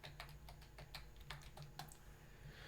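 A password is typed on a computer keyboard: a quick, irregular run of a dozen or so soft, close key clicks, alone and fairly quiet.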